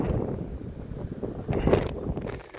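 Wind buffeting a microphone outdoors in La Mata, Spain, a continuous low rumbling roar with uneven gusty surges throughout, loud and close.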